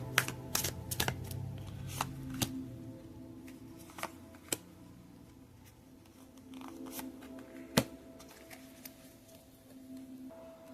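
Tarot cards are shuffled close by in quiet, irregular bursts of riffling and soft snaps, with no voices.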